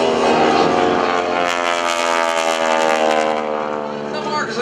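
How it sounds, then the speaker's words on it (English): A Stearman biplane converted to a 450-horsepower R-985 radial engine with a Hamilton Standard propeller drones loudly and steadily at a 2014 military base open house and airshow, with a voice faintly beneath the roar. "This airplane has been converted from a 220 horsepower Continental to an R-985."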